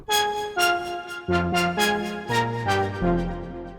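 A synthesizer lead patch in Diva plays a short melodic phrase of bright, plucky notes with a decaying tail, ending on a low sustained tone, alone and fairly loud.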